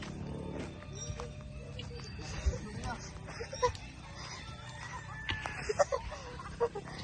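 Chickens cluck in short scattered bursts over a background of talking and farmyard noise, with a few sharper calls standing out near the end.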